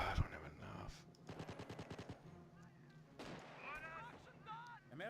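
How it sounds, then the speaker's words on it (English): Mortar shells and gunfire hitting a defensive position in a World War II Blitzkrieg mod strategy video game, with rapid bursts of firing and impacts, then bright whistling effects and other game sounds. "The mortars are hitting our position."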